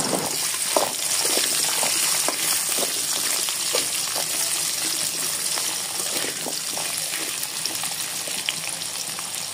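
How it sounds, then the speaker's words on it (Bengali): Chopped potatoes fry in oil in a kadai for a koi fish curry, making a loud, dense, continuous sizzle with crackling pops throughout and no talking. "আলু কুচিগুলোকে খুব ভালো মতো একসাথে ভেজে নেব।"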